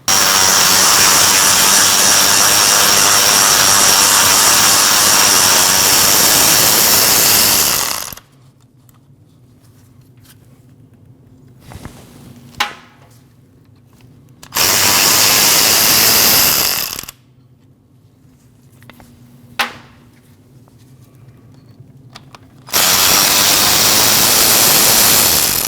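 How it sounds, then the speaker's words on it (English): A power tool spins loose the bolts on a 2014-2023 Jeep Cherokee transfer case shift motor, with three long loud whirring bursts of several seconds each. Quieter gaps between them carry faint clicks and taps. "I always like to loosen them up by hand before I put a power tool on them"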